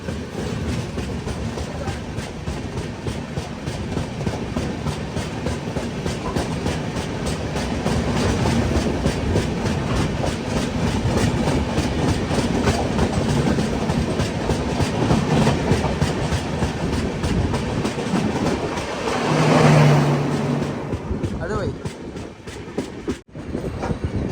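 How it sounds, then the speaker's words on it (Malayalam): The Visakhapatnam–Hazrat Nizamuddin Swarna Jayanti Express comes in near Bina railway station, a long steady rumble with rapid clickety-clack of wheels over rail joints, swelling briefly near the end before cutting off. "ഇപ്പോൾ ഒരു ട്രെയിൻ വരും, വിശാഖപട്ടണം ഹസ്രത്ത് നിസാമുദ്ദീൻ സ്വർണ്ണ ജയന്തി എക്സ്പ്രസ്"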